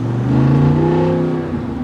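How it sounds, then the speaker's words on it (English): Loud, close V8 exhaust of a 2022 Jeep Wrangler 392 with active exhaust off, rising in pitch as it revs and accelerates, a deep droning rumble throughout. "we're going to start off without the active exhaust, so that way we can still kind of hear the exhaust"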